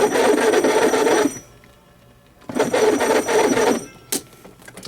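Old WWII-era field telephone bell ringing loudly in two long bursts separated by a pause, followed by a brief sharp click, with no talking.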